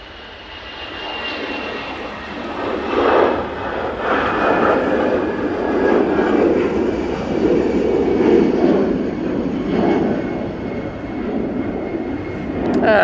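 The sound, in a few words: airliner taking off, bound for Faro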